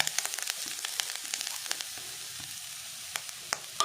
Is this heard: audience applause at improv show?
no